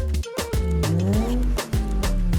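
A South African car with a straight-six engine, manual gearbox and BBS wheels revs loudly and close up, its deep tone rising and falling across several throttle blips.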